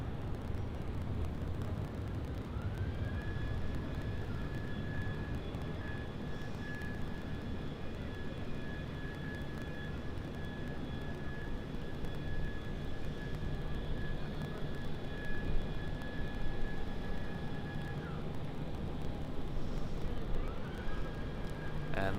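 A jet airliner climbs out of Sydney Airport at night and banks left toward Abu Dhabi, a steady distant engine roar with a thin whine held throughout, under faint radio chatter.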